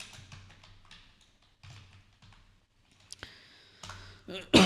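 Clicky computer keyboard typing in short bursts with pauses, fairly close, during a beginner's session working in Google AI Studio, ending in a louder burst of sound.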